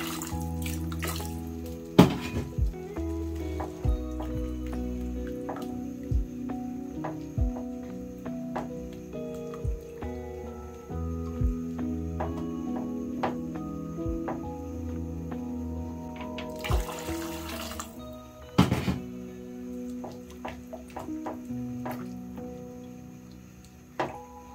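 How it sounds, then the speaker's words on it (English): Water is poured and trickles into a pot of thick meatball stew, with splashing and dripping and some clinks from the pot, close by and moderately loud. "I'll thin this out with some water."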